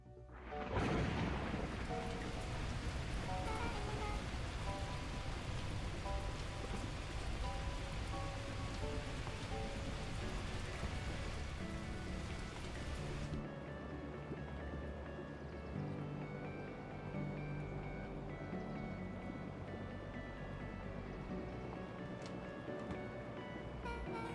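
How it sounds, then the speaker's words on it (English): Torrential rain pours down in the video game Beacon Pines, a dense, steady hiss that starts abruptly and holds at a constant level, with a low rumble running underneath and the upper wash thinning partway through. "At that moment, the heavens opened up, unleashing torrential rain."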